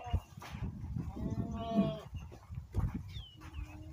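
A desi goat gives a drawn-out bleat mid-clip on a goat farm in India, among other farm-animal noises, with people talking nearby.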